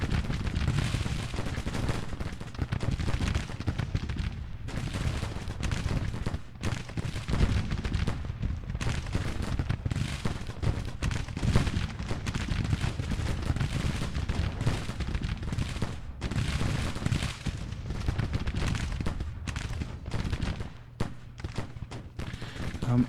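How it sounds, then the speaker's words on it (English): Civil War artillery batteries and Williams guns fire in Grand Tactician, a steady barrage of dull thumps and crackling volleys that rolls on continuously while someone talks over it. "So this brigade's now under fire from our 2 artillery batteries and hopefully the Williams guns as well."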